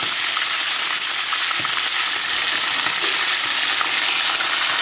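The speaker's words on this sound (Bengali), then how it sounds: "এবার কিন্তু একে একে আমি চিকেনগুলো দিয়ে দিচ্ছি।" Chicken pieces fry with tomato in a pan, making a loud, dense, continuous sizzle. The hiss is close and unbroken, with no talk over it.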